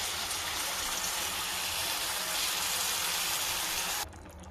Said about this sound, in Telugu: చింతపండు నీళ్ళు వేసుకున్నాను